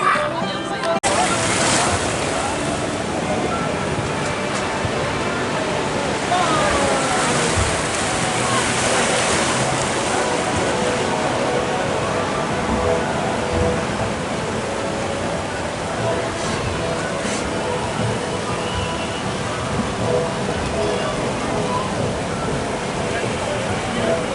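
Water crashing and sloshing around boats on the Gold River rapids ride at Walibi Rhône-Alpes, a continuous loud rushing roar with splash surges, voices faintly mixed in.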